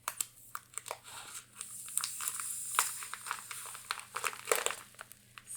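Soft crinkling and crunching of plastic yarn packaging being cut open with scissors, with small irregular snips and rustles, quiet and close.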